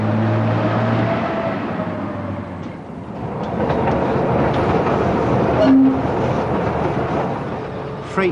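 A heavy freight train carrying minerals from Andes mines rumbles past close by in Chile, wagons clattering in a continuous loud roar with a brief squeal of wheels midway.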